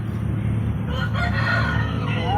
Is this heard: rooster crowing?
yes